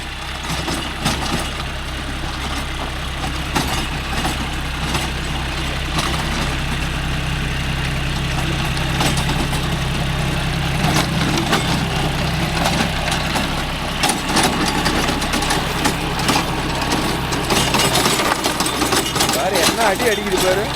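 A John Deere 5105 40 hp tractor pulls a 36-blade Gomathi rotavator across a stony field, knocking over stones. A loud, continuous low engine rumble is broken by irregular thumps, and someone talks over it throughout.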